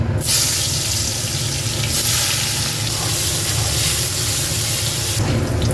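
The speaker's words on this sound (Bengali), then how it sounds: "বেগুনগুলো ভেজে নেব" Salted, turmeric-coated eggplant pieces fry in hot oil in a pan, giving a loud, steady, close sizzle that holds without a break and flares at the start and end.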